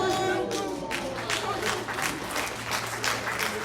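An audience claps and cheers briefly, a burst of applause that fades after a second or so, while a voice talks over the crowd noise.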